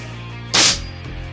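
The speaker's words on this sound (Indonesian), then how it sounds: "Tembak plat besi saja." A single sharp crack from an FX Crown PCP air rifle fired at a steel plate, close and loud against a quiet background hum, followed by a faint trailing tick.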